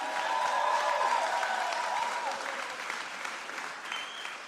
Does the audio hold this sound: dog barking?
no